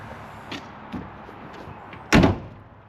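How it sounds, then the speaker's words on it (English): A car door on a 1976 Chevette shuts with one solid, close thump after a few small clicks and handling sounds. "Door shut nice."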